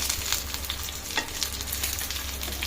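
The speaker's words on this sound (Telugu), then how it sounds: "ఇట్లా మంచిగా షాలో ఫ్రై చేసుకోవాలి. కొంచెమే ఆయిల్ వేసుకొని ఇట్లా చేసుకోవాలి." Marinated pomfret fish shallow-frying in a little oil, a steady crackling sizzle with light spatula clicks now and then, close and moderately loud, no voices.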